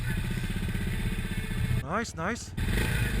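A 2020 Bristol Classic 400i motorcycle engine idles with a steady low rumble throughout, while someone briefly speaks over it.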